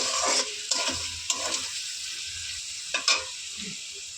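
Flattened rice (chira) is tipped into a hot frying pan and stirred for chirar polau, a soft sizzle under scraping, clattering stirring strokes at close range.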